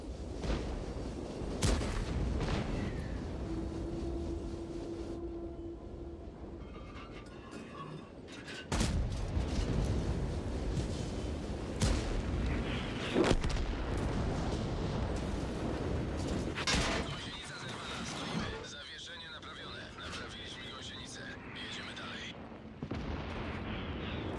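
Repeated heavy cannon booms from a Tiger-Maus tank in World of Tanks, scattered over continuous background rumble, with sharp blasts striking at irregular intervals.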